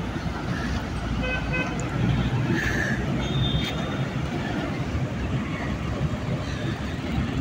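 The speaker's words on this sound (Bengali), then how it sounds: "এটা হচ্ছে ঢাকা চিটাগাং হাইওয়ে রোড।" Roadside traffic on the Dhaka–Chittagong highway near a scale control station: a continuous broad rumble of passing vehicles with a brief horn toot in the middle, steady and moderately loud.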